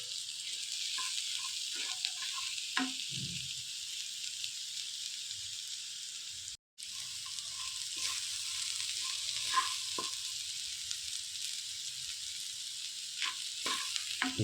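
Onions sauté in a pan with ginger-garlic paste and asafoetida, giving a steady, close sizzle with occasional soft stirring scrapes and pops throughout.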